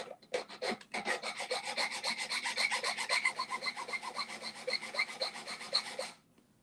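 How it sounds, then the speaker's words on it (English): Hand file rasping over a metal wishbone ring in steady, even strokes, close and fairly loud, running for about six seconds before stopping. "I want to just keep checking that I'm filing evenly"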